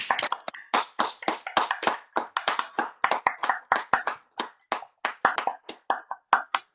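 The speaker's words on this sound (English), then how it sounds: "I'd love a big, big round of applause for all of our poets, our audience poets too" Applause for poets at a poetry open mic, a few people clapping close by in a quick, fairly regular series of crisp individual claps that runs throughout without talk.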